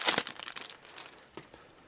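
Close, brittle crinkling of a thin plastic bag, busiest in the first moment and then trailing off into a few scattered rustles.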